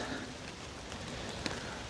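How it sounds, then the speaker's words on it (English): Rain falls steadily under pine trees in woodland, a dense, even patter of drops hissing on needles and ground, with one slightly louder drop standing out and no voices. "I just was enjoying watching the rain come towards me"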